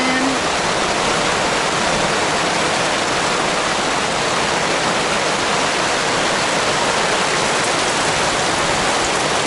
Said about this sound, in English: Whew, it's raining pretty good.